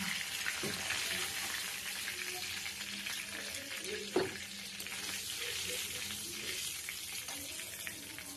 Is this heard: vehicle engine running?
no